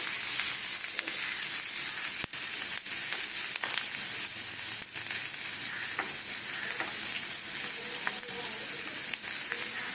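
Shrimp-dish ingredients with chilli and capsicum fry hard in a pan, a continuous close sizzle with occasional stirring clicks and scrapes.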